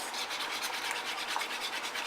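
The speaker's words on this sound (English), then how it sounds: "I'm just going to keep whisking it on the stove until it gets to a thick consistency" A whisk scrapes steadily through chocolate pudding in a pot on the stove, a continuous close rubbing rasp with a soft rhythmic swish and no voices.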